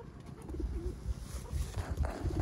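Game pigeons kept as a full pair at a rural pigeon-keeping setup give faint, low cooing over a dull rumbling background, quiet and somewhat distant, with no talk.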